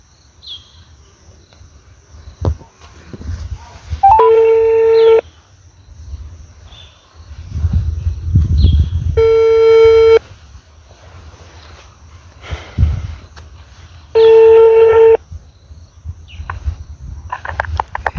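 Three evenly spaced bursts of a steady electronic ringback tone, each about a second long, separated by quiet gaps with faint background noise and low rumbles.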